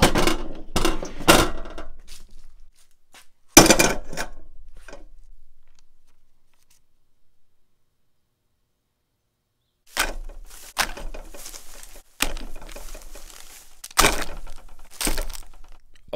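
A machete chopping through American cheese singles in a kitchen, sharp cracking thwacks in several quick bursts, then a long silent gap before more chops resume.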